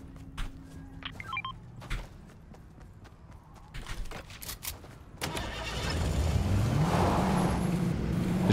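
A car engine in a video game, starting with sparse clicks and thuds, then rising into a louder, steady droning motor that climbs in pitch near the end. No one speaks.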